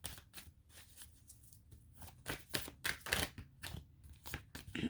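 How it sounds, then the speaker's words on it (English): Romance angel cards being shuffled by hand, a run of crisp riffling bursts and soft slaps that rise and fall in quick irregular clusters, close and fairly quiet with no talking. "Let me just shuffle one more time"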